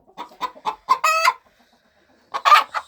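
A rooster crows nearby, with a sharp tonal call amid a series of short clucks from fowl.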